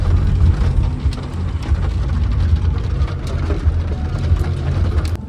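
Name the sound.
rain falling in the Darjeeling hills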